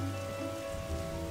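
Rain falling on a roof in the video game Darkside Detective, a dense steady patter with a low continuous hum beneath it, even and unbroken throughout.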